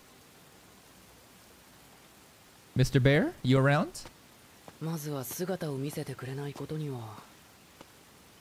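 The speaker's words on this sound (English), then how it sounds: "Okay, it's raining." Soft steady rain hiss fills the background throughout, while a person calls out twice in the middle.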